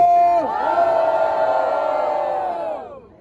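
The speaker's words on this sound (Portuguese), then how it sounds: "Faz barulho quem gostou das rimas de Jorginho" A crowd at a Brazilian street rap battle roars and cheers loudly in one sustained burst, voices blending into a broad shout that fades out near the end.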